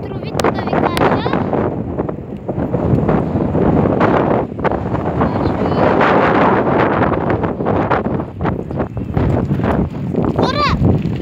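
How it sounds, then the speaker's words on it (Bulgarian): Strong gusty wind buffets the microphone in a sustained, loud rumble on a very windy outdoor day, with brief louder gusts throughout. "Тук е много ветровито, да ви кажа."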